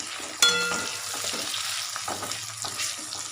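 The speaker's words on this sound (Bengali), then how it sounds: "পেঁয়াজ ভাজছি" Onions fry in a pan on a home stove, a steady sizzle with stirring scrapes and a sharp clatter near the start, no voices.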